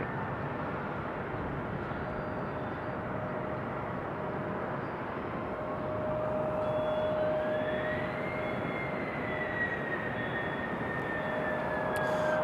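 A Delta Air Lines jet, flight 2699 arriving at Raleigh-Durham from Minneapolis, makes a sustained broadband engine rumble with a thin whining tone that rises in pitch partway through as the roar grows a little louder.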